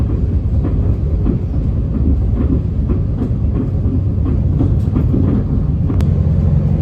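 Steady rumble and rhythmic wheel clatter inside a GTR Thameslink train running through Norwood Junction without stopping, close and continuous with no talk.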